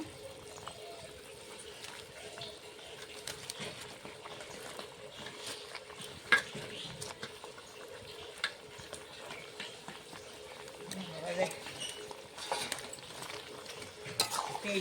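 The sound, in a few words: sour spinach added and stirred into boiling curry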